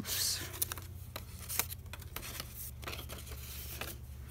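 Scissors snip along a line across a paper envelope, a few quick, faint cuts and crisp paper rustles over a low steady hum.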